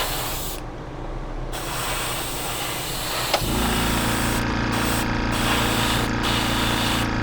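An air compressor runs nearby in a workshop with a steady, loud hiss, and its motor kicks in partway through, adding a constant low drone that continues to the end without any voices.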